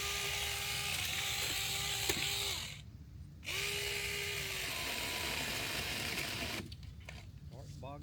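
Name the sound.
battery-powered trimmer motor bogging down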